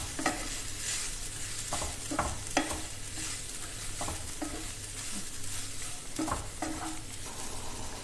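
Sweet potato chunks sauté in hot ghee, a steady sizzle broken by repeated scraping stirs of a spoon against the pan, close and continuous with no talking.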